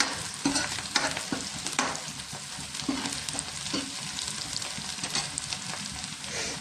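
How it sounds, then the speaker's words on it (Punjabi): Onions frying in a pan for saag, a dense close sizzle with frequent stirring scrapes and clinks of a utensil against the pan, no talking. "ਹੁਣ ਆਪਣਾ ਪਿਆਜ਼ ਭੁੱਜ ਗਿਆ"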